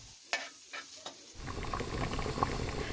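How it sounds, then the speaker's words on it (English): Golden chicken pieces sizzle in a hot wok: after a quiet start with a few light clicks and taps, a loud, close, crackling fry surges in and keeps going steadily. "Golden pieces of chicken sizzling in the wok."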